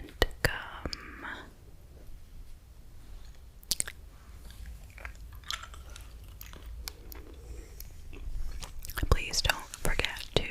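Someone chews spearmint gum close to the microphone, with soft wet smacks and crunchy clicks scattered unevenly through a quiet, whispery stretch.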